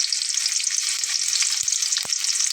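Chopped onions frying in hot oil for bhindi masala, a continuous bright sizzle filling the whole stretch, close and steady, with a couple of faint knocks from the pan or spatula.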